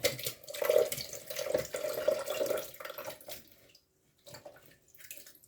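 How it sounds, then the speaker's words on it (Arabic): Boiled potatoes and their cooking water poured into a pot, a gurgling watery splash with uneven surges that fades to quiet, then a few softer trickles. "هنحط فيه البطاطا اللي احنا سلقناها بالميه بتاعتها"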